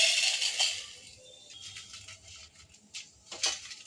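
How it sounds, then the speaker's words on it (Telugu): Freshly roasted spices are tipped from the pan into another bowl, making a few soft, dry rattling and pattering bursts close by, faint against an otherwise quiet kitchen. "ఇది వేరే గిన్నెలోకి తీసుకోవాలి"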